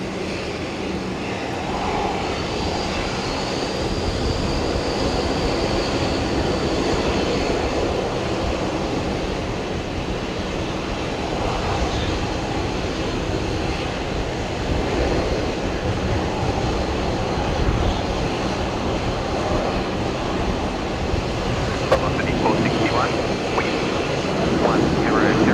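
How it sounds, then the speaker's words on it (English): Qantas jet on a full-length takeoff roll from runway 19 left at Brisbane Airport, a steady broad engine roar heard from a distance for the whole stretch, with a voice speaking over it. "Qantas 525 here, also heading down to Sydney, just clear for takeoff now. Full length departure here off runway 19 left."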